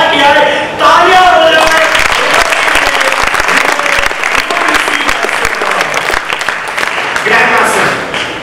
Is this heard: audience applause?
yes